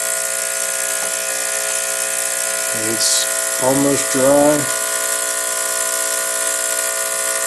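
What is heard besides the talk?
sonic cleaner running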